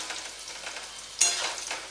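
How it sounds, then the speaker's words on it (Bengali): Bitter gourd pieces sizzling hard over a high flame, a continuous close frying hiss that jumps louder halfway through as the pan is stirred, with no voices. "হাই ফ্লেমেই ভাজছি আমি।"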